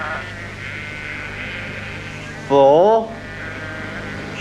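A sheep bleats once, loud and wavering, for about half a second, cutting through a steady hum of background noise on a stage during a comedy theatre show; a voice speaks briefly earlier.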